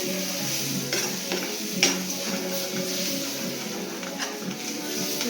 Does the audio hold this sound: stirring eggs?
yes